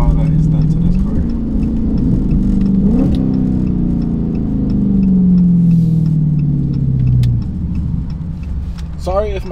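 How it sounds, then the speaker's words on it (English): A 2015 SRT 392 with an aftermarket intake idles and revs in close, loud rises and falls, a deep engine drone climbing and settling several times across the stretch, with small cabin rattles. "It's the 2015 SRT 392. Only thing that's done to this car is it has an intake."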